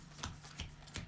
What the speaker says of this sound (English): initial supplemental cards that get shuffled up